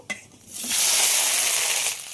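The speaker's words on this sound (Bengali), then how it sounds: "গরম তেলের মধ্যে কেটে রাখা ঢ্যাঁড়সগুলো দিয়ে দেব ভাজার জন্য" Boiled okra is dropped into hot mustard oil: a brief clunk is followed by a sudden surge into a loud, steady sizzle that holds close up, with no talking.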